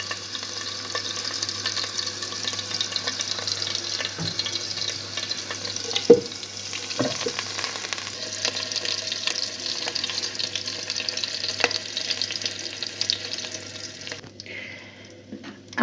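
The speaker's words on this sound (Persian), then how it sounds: "در ابتدای یه مقداری کره رو با یه کوچولو روغن میذاریم که آب بشه" Butter and a little oil sizzle steadily in a pan on a home stovetop, a constant fine crackle with a few light clinks of stirring utensils, close and continuous before tapering off at the very end.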